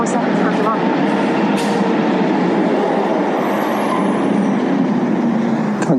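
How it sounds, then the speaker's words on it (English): A garbage truck in a street on Canada Day, a loud continuous engine rumble with hissing air-brake bursts, close by and steady throughout, with a voice speaking over it. "Can't get away from the garbage truck"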